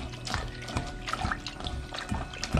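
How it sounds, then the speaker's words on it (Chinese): Garlic scapes being rinsed by hand in a basin of water, with close, irregular sloshing, splashing and dripping over a few seconds and no talk. "加入清水，把蒜苔我们好好的清洗一下"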